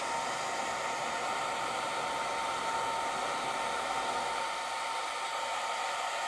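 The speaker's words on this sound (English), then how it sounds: "Which is much more muted. The fan does not slow down at all." A Longer Ray5 20W laser module's cooling fan runs with a custom duct, giving a steady, loud airy hiss with a faint tonal whine and no change in speed.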